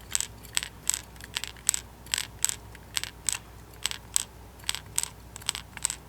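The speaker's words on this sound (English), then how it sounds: "Just something about that little clicking noise really seems to attract the bass for me." Rat-style wake bait fishing lure for bass, shaken in the air, giving a run of sharp bright clicks in an irregular rattling rhythm, close and fairly loud, with no talking.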